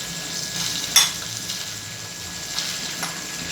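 Mutton pieces cooking in preheated ghee in a pan for shawarma, a steady close sizzle with light stirring scrapes and one sharp clink of utensil against the pan.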